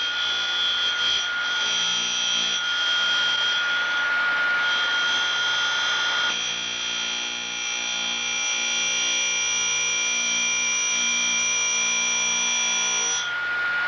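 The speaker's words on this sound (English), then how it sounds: "grind one secondary clearance angle on one flute until the width of the primary angle is the proper size" A Cuttermaster grinder grinding the secondary clearance angle on an end mill flute, producing a steady high-pitched whine with a continuous grinding hiss that shifts in tone partway through, loud and alone.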